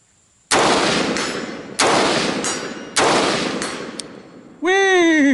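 Three loud, sharp rifle shots from a Scout Marksman rifle, about a second apart, each followed by a long decaying ring, then a bright metallic ringing tone at the end.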